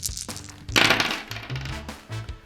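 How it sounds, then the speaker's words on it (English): Five Yahtzee dice rolled and tumbling onto a hard surface, a burst of sharp clattering knocks that settles into a few scattered rattles before stopping, loud and close with no talking. "Roll all 5 dice, then you can choose which numbers you want to collect the most of."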